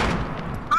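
Grenade blasts from a Fortnite battle royale match, a dense burst of booming detonations filling less than a second, loud and close, with a voice chiming in at the end.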